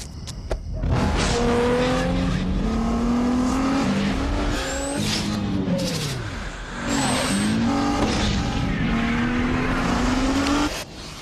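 A Nissan Maxima with a 265 horsepower engine revs hard and sweeps through turns with long squealing tires, loud and close, in a TV car commercial.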